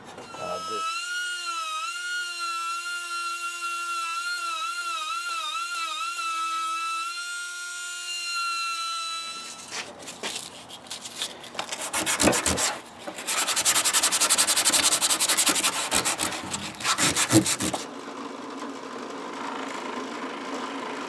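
A compressed-air tool shapes wooden gun scales. It starts as a steady, high-pitched whine that wavers in pitch, then turns to loud, rough, continuous grinding and rubbing against the wood for the rest of the clip.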